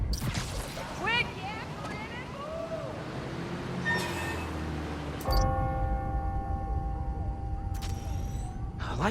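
Bells chiming the hour in the Spider-Man: Miles Morales video game, several steady tonal strikes ringing out over a busy background and a voice, with a bright sustained chime taking over midway.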